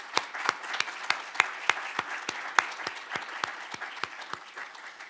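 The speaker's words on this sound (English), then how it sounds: "Let's give them all a round of applause," Audience applause at an academic event opening, sharp individual claps in a steady irregular patter from a modest crowd, fairly close and moderately loud, with no talking over it.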